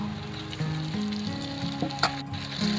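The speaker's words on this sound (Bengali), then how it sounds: "এবার পরিষ্কার করে ধুয়ে রাখা গলা আর মেটে দিয়ে দেবো" Chicken neck and liver drop into a pan of frying onion and tomato, setting off a steady sizzle with a few stirring scrapes and knocks; close and alone, with no talk.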